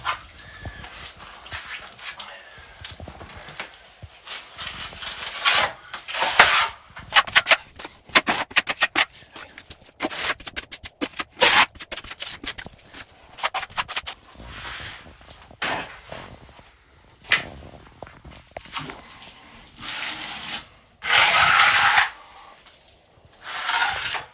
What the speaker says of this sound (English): So we're going to use our regular mortar and put it in.